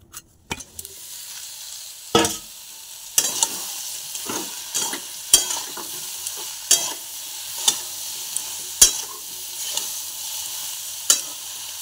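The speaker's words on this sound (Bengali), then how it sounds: "আলুটা লাল লাল করে ভাজা হয়ে যেতে এবার ঝিঙেটা দিচ্ছি" Potatoes and ridge gourd fry in a pan, a steady close sizzle broken by sharp scrapes and clatters of a spatula stirring every second or so, with no talking.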